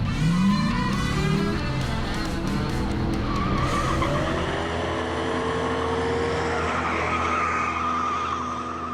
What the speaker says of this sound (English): I don't think I've ever enjoyed watching somebody do burnouts so much.